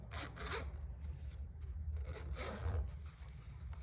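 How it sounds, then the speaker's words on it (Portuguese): A zipper sewn onto a round crochet bag being pulled open, giving a few soft scraping rasps close by with no talking. "Já costurei o zíper, deixa eu abrir aqui pra vocês verem"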